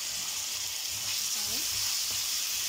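Chopped tomatoes sauté in a hot pan for egg biryani, a steady close sizzle with light stirring scrapes throughout and a faint voice underneath.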